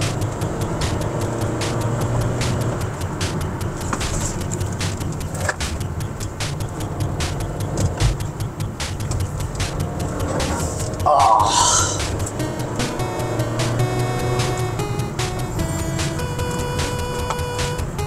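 A 2023 Honda BR-V 1.5 S CVT drives along, its engine and road noise a steady low hum in the cabin under frequent talk from the driver.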